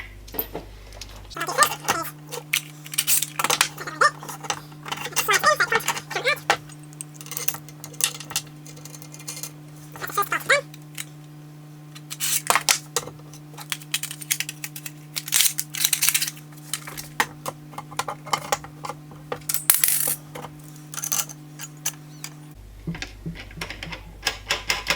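A Bessey K Body Revo parallel clamp is extended with a KBX extender, giving irregular clacks, taps and sliding knocks of metal and plastic parts, with a faint steady hum underneath.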